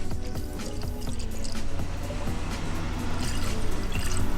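Coolant poured into a Honda Del Sol engine, a continuous gurgling, splashing liquid pour with drips, close and fairly loud, with no talk.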